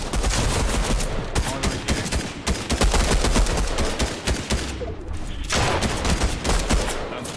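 Dense gunfire from Fortnite Chapter 3 rattles almost nonstop, rapid loud shots and bursts overlapping throughout with only brief dips, close and harsh.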